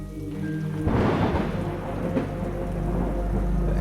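A heavy rainstorm pours down with a dense hiss of rain while a deep rumble of thunder rolls in close and loud, lingering under the downpour.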